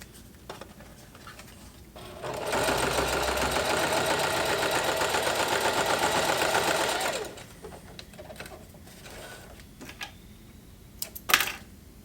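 A heavy-duty sewing machine stitches through five layers of material in one continuous rapid whirring run of about five seconds, close and loud, followed by a few scattered clicks and handling knocks.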